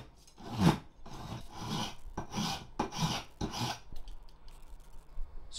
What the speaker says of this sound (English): scribing out one of its edges, and filing it away